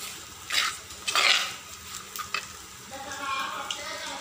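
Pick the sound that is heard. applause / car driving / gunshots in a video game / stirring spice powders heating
stirring spice powders heating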